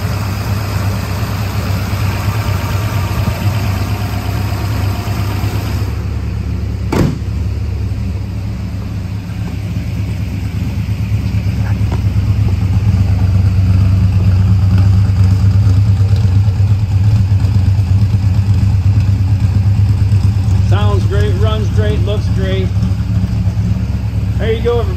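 The 426 Hemi V8 of a numbers-matching 1966 Dodge Charger idles steadily, a loud, constant low rumble close by that grows fuller partway through, with faint voices and other noises near the end.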